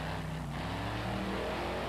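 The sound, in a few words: monster truck engine revving on the throttle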